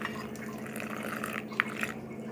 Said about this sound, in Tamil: இப்போ இதில் வந்து கொஞ்சமாக தண்ணி ஊற்றிக்கலாம்